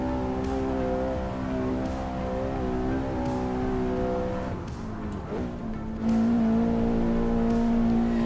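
A car lapping the Nordschleife tourist layout in the driving game Assetto Corsa, its engine droning steadily with pitch rising and falling through gear changes, with a few sharp shift blips along the way.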